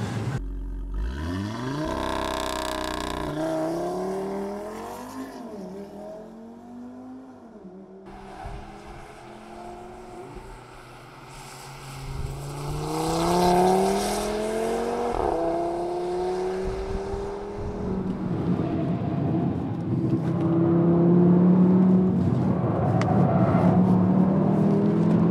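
A 2015 Audi RS3 Sportback driven hard on a race track, its engine rising and falling through repeated revving pulls and gear changes, loud and close from inside the car, with tire noise swelling toward the end.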